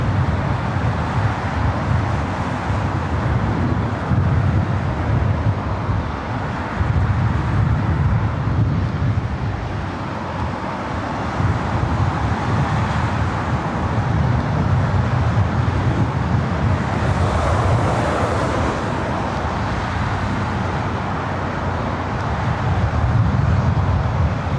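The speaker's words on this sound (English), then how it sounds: "We have another CRJ 700ER heading over here." A CRJ 700ER regional jet approaches at LAX, heard as a continuous broad roar that swells and fades under steady wind and traffic noise, loud and sustained throughout.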